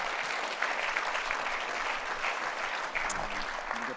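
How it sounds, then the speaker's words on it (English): A room full of people gives sustained applause for panel members at a Sydney stakeholder event, dense steady clapping that carries evenly through the whole stretch with no talk over it. "And please just give them a round of applause."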